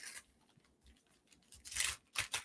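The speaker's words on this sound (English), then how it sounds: "So I'm going to unwrap this gift here." A small wrapped holiday gift is unwrapped, wrapping paper tearing in a few short, close rips with soft rustling between them and the loudest tears near the end.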